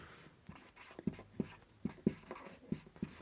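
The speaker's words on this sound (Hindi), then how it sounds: "तो यहाँ मैं लिखता हूँ" Chalk or marker strokes on a board while a hockey general-knowledge class is written up, a series of short sharp taps and scrapes spaced irregularly, close and fairly quiet.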